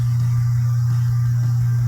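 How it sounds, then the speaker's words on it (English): Mechanical hard drive mounted in a toaster dock, a steady low hum of vibration carried through the mount, continuous and even with faint background static and no talking. "what you're hearing is the vibration through the mount."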